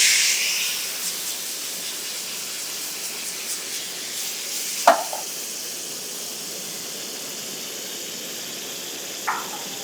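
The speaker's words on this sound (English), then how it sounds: "And all I did was deglaze." Hot pan deglazed with white wine, lifting browned sun-dried tomato bits off the bottom: a steady close hiss of sizzling steam throughout, louder at the start, with a couple of faint clinks.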